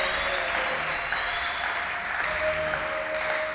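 A church congregation applauding during a worship service, a dense, steady wash of clapping from many hands that holds at an even level throughout, with a faint tone sustained underneath.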